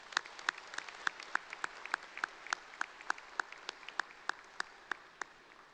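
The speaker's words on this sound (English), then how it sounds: "Let's give him a round of applause." Applause rises from the audience at a university undergraduate graduation ceremony, a soft, distant patter with a few sharper individual claps standing out, with no voices over it.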